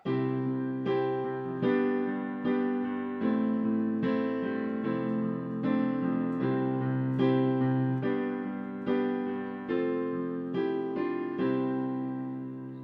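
The intro of a song, chords plucked or strummed in a steady rhythm, each one ringing out before the next, played alone with no voice.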